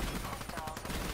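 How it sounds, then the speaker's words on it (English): Rapid gunfire in Black Ops 3 as a player shoots at a robot enemy, a dense, steady burst of shots running through the whole moment with no pause. "I'm shooting a robot because I know it's on my head."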